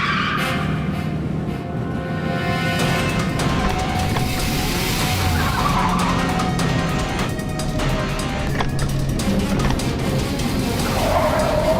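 A car drives past with steady engine noise and skidding, loud and continuous throughout, with traffic-like bustle around it and no talk.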